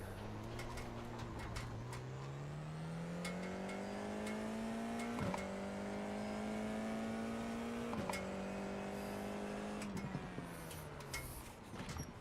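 A Formula 4 race car laps Laguna Seca, its engine droning loud and continuous from onboard, pitch climbing through each gear with brief dips at the shifts.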